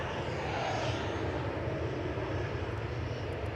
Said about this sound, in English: Ryanair's going next.